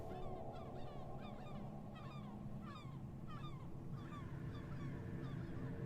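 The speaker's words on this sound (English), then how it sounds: "We hear the gulls squawking above you." Repeated squawking bird calls in quick bursts over a steady low rumble, birds calling at moderate distance for several seconds.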